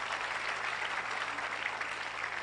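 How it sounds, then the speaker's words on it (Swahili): Steady applause from a crowd honouring pastors at a funeral gathering, a continuous wash of clapping that holds at an even, moderate level throughout without any break or voice standing out. "Tuwapigie makofi mazuri."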